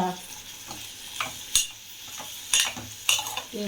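Tomatoes are added to a pan and cook with a soft sizzle. Several loud, close spoon clatters and scrapes against the metal pan punctuate the frying.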